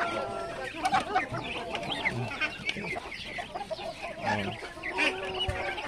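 A rooster on a Muscovy duck farm gives short clucking calls among other fowl, with ducks and geese honking nearby; a person talks at times over the birds.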